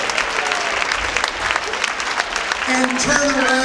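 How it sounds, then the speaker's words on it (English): Big round of applause from the crowd at a university dance marathon, steady dense clapping throughout with some cheering, and tonal voices or music rising near the end. "5, fully emerged, big round of applause."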